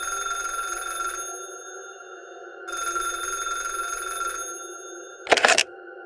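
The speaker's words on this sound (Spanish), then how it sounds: "De pronto, el teléfono sonó y la tía de Antonella contestó." An old telephone bell rings in two long, loud bursts separated by a pause, followed by a short clatter as the receiver is picked up.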